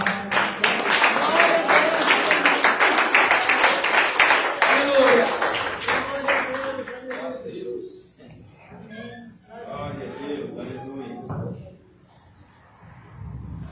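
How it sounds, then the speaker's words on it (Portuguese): A church congregation claps along steadily and loudly, then the clapping fades as voices and light laughter take over. "Com palmas bem alegre para Jesus, igreja."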